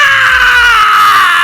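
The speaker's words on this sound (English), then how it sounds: "why you keep screaming in my video" A child screams loudly and continuously at a high, sustained pitch, close and strained for the whole moment with no talk over it.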